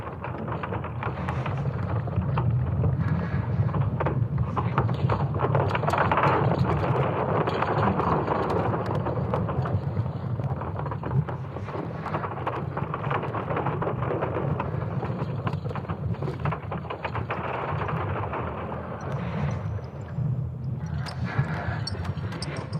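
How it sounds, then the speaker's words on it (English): A sonification of Earth's magnetic field under assault by a solar storm, an eerie continuous rumbling drone with crackling, thunder-like surges and windy swells, sustained and fairly loud for over twenty seconds. "a disturbing sonic representation of Earth's magnetic field under attack"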